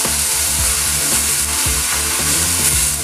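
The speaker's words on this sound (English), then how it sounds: "while the ground beef or turkey is cooking and sauteing" Two pounds of lean ground beef sautéing in a pan gives a steady, close sizzle that runs through the whole stretch, with a low tonal hum sitting underneath.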